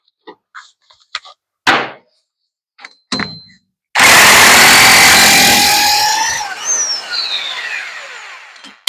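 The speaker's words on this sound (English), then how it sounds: "we're just going to be using a chrome socket on an impact" An impact wrench with a chrome socket works on the brakes of a 2010 Toyota Yaris. Several sharp knocks come first, then a loud, sustained whirring rattle that gradually fades out.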